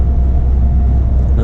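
An Iveco truck goes by, a steady loud low engine rumble throughout with a slight rise in brightness near the end, no voices.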